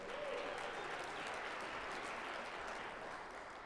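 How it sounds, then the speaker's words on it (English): A comedy show crowd gives steady, full applause for the moms in the room, a dense, even wash of clapping with no gaps throughout. "Let's give moms a round of applause."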